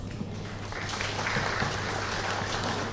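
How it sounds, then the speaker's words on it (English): A crowd applauds the chief guest at a formal live event, a continuous wash of clapping that holds steady and moderately loud throughout, with no voices standing out. "please join me in giving a warm round of applause for our chief guest"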